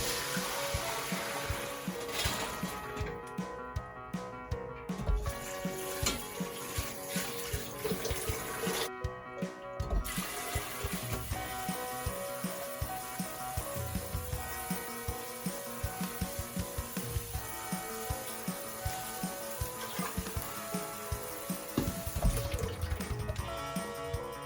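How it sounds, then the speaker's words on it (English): Hot water from boiling acorns being dumped out, a steady rushing pour with splashing that runs continuously for about twenty-five seconds with no voices. "dump the hot water"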